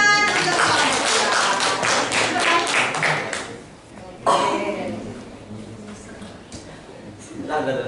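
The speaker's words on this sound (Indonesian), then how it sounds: "Tepuk tangan." A small classroom audience claps after a group presentation at a university teacher-certification performance test. The clapping is scattered and fairly close, lasting about three seconds before thinning out, with background talk afterward.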